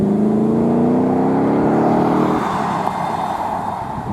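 A car engine at the Ford RS National Day revs hard, its pitch climbing as it pulls away past the listener, then fades into a softer whir with no talk.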